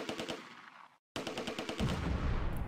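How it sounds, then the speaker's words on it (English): Small arms and machine gun fire in the WWII tactics game Close Combat, set in the Arnhem suburbs: rapid overlapping bursts of shots, interrupted by a brief silence and then resuming with a heavier rumbling mix. "Perfect mortar target, and my small arms fire joins in to keep the pressure on."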